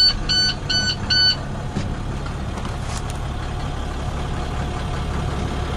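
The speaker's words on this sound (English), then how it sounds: "We'll fire it up here and you can hear it run." A 2011 International 4300 truck engine idles steadily with a low rumble after starting, preceded by a few rapid electronic beeps at the start.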